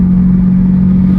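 A C8 Corvette fitted with high-flow catalytic converters, its exhaust droning at a steady loud idle or low rev, a constant deep engine tone close to the microphone with no voices.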